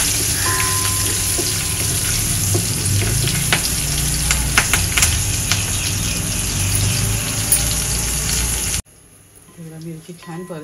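Cumin seeds and green chillies frying in hot oil in a pan, a loud, crackling sizzle with scattered pops that runs for about nine seconds, then drops abruptly to near quiet.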